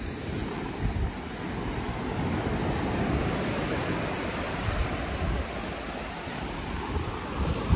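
Ocean surf at Hampton Beach, New Hampshire, a steady broadband wash of waves that stays fairly loud and even throughout, with wind buffeting the microphone and no voices.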